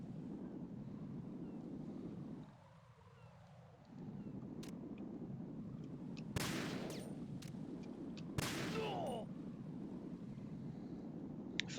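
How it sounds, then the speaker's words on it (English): Gunfire in the video game Metal Gear Solid 2: Substance, two sharp broadband shots a couple of seconds apart over a low rumbling, wind-like ambient bed, with a few faint clicks. "I feel like the gunfire would draw attention"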